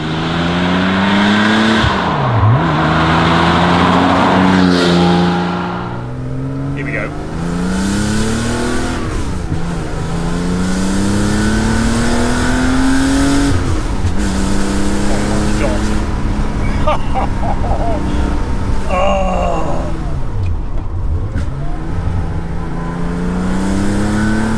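A Porsche 911 Carrera RS 2.7 Rennsport pulls hard along a public road, its engine loud and close, revving up through repeated rising sweeps between gearshifts, while someone talks over it.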